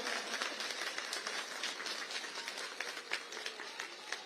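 A large crowd at an outdoor election rally claps continuously, a dense, steady patter of many hands with no pauses.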